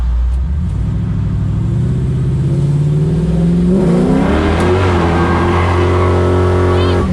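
A 1969 Camaro's 454 big-block V8 with headers revs up hard near a tunnel, its deep rumble rising in pitch and growing rougher and louder as it accelerates.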